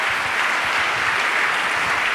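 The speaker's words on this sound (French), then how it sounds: "Je propose de l'applaudir également." A large audience at a media awards ceremony breaks into sustained applause, a dense, steady wash of clapping hands lasting throughout with no voices over it.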